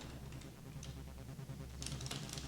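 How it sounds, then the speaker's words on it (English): Someone types on a computer keyboard at an OS/400 (IBM i) terminal session, with steady quiet clicks that grow into a denser flurry of keystrokes near the end, alone without talk. "You see now I'm typing in uppercase"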